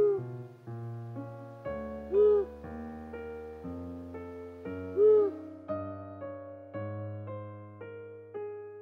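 Two soft, low long-eared owl hoots, a few seconds apart, sound over gentle background music with sustained notes.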